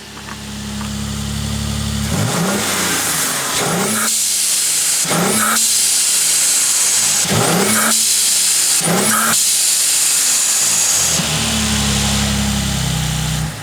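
A Mercedes GLE with the M276 turbo V6 and a megaphone exhaust runs loud and close, with a steady rumbling idle broken by several sharp revs that rise and fall. No one speaks.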